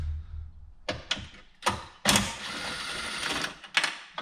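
Ratchet backing out 10mm bolts from a Chevrolet Silverado center console, a close series of quick clicks and taps in short bursts, with a brief rattling stretch in the middle.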